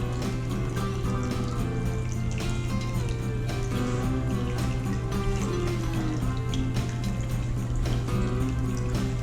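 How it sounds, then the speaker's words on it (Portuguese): Homemade water fountains of cement and stones, finished with water-based acrylic resin, running steadily: a continuous close trickle and splash of falling water over a constant low hum, with no voices. "E aí estão as fontes."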